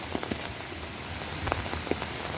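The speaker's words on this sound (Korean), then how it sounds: "지나가는 소나기 수준이 아닌가요? 오, 또 많이 오네." Heavy rain shower pattering steadily on a forest hiking trail with a wooden boardwalk, a dense close hiss with scattered louder drops striking nearby surfaces, no talking.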